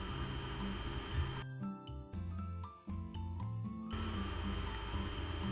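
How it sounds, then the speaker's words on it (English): A sewing machine top stitches along the edge of a two-piece shirt collar, with a short burst of rapid mechanical stitching in the middle framed by a steady motor hum, close and fairly quiet with no talking. "So I'll take it to my machine and I'll just sew along the top edge."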